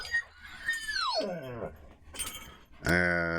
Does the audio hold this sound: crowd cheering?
no